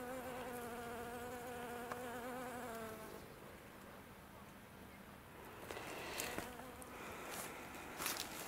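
A bee buzzes close by on a spring day near a river, a steady harmonic drone lasting about three seconds before it fades into soft outdoor background noise.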